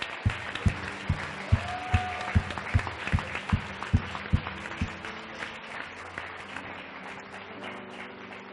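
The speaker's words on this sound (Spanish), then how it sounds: "Dele un fuerte aplauso al Rey" A church congregation breaks into strong applause for the King, with a run of sharp, loud rhythmic claps up front that thins into softer scattered clapping and murmuring voices toward the end.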